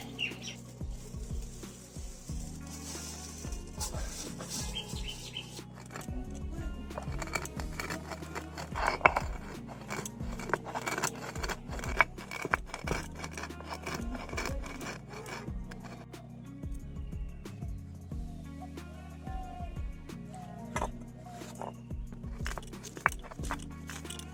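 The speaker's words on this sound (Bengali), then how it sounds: "ভালো করে বেটে গুঁড়ো করে নেব শিলেতে।" Fried chana dal is ground on a flat grinding stone (shil), with repeated rhythmic rubbing and grating strokes of stone on stone that continue steadily and close by.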